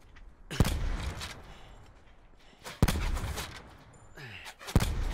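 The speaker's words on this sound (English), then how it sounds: "He's shooting at me" Enemy gunfire in the Call of Duty Blackout battle royale game, a few sharp loud shots with bursts of rattling fire in between, alongside in-game ambience.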